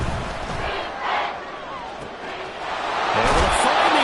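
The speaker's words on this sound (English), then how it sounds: "This crowd turning up the decibel level." Stadium crowd noise in a college football video game, a loud, steady roar of cheering that swells and rises under ongoing play-by-play commentary.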